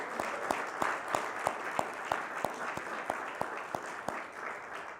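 Audience applause at a human rights awards ceremony in Arlington County, a steady roomful of clapping hands with a brisk, even rhythm, moderately close and continuous, with no talking.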